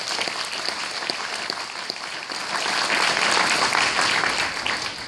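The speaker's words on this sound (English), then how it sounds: "give Ford a round of applause" Applause rises from guests at a scholarship dinner, a moderate crowd clapping with scattered distinct claps at first that swell into fuller, steadier applause.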